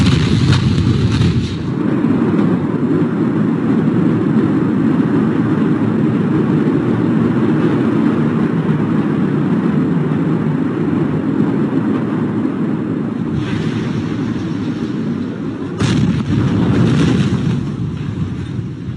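Distant rumbling roar from the Beirut explosion, a sustained low boom with crackling noise that swells and fades, followed by a couple of sharper bursts near the end, with no voices.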